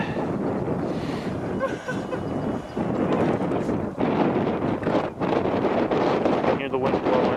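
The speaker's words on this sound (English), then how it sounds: "Hear the wind blowing." Loud, steady wind roars across an open outdoor spot where skateboarders try tricks in near-hurricane gusts, buffeting the microphone continuously with brief dips, while people talk over it.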